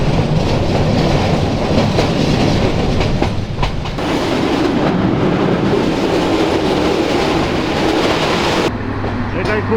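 Passenger coach of the Paharika Express running on rails, a steady loud rumble and clatter of wheels filling the whole stretch, with a brief lull partway and a speaking voice over the noise.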